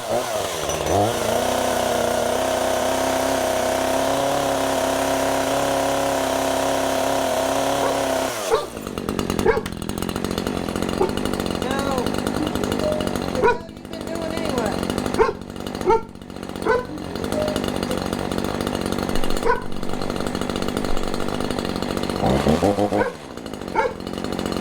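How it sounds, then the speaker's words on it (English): An Echo CS-3510 chainsaw runs steadily at high revs to oil its chain, then cuts off partway through and gives way to uneven mechanical clatter and bursts of revving. "run the chain enough to where it gets oil on it so it doesn't rust"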